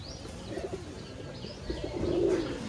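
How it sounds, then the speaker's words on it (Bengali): Pigeons at a pigeon farm in Pabna, Bangladesh, make a soft, continuous low cooing murmur, with one fuller, louder coo near the end. There is no talking. "তো এটা হলো নর কবুতর।"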